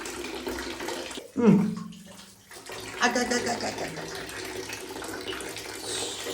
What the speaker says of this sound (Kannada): ಈಗ ನೀರು ಬರಾಗುತ್ತೈತೆ